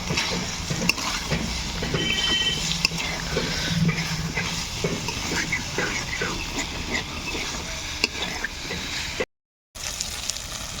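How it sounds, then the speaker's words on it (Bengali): Potato and eggplant stir-fry in a pan, giving a continuous loud sizzle with scraping and stirring sounds throughout, briefly cutting out near the end. "আর কিছুক্ষণ আলু বেগুনটাকে কষিয়ে নেব।"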